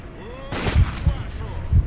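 In STALKER, a sniper rifle fires as several sharp, booming gunshot thuds in quick succession. They land close and loud, and a voice speaks between the shots.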